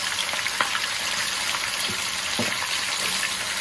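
Chicken pieces fry in hot oil in a pan for a ginger chicken dish, a dense continuous sizzle with occasional pops and spatters, close and steady with no talk.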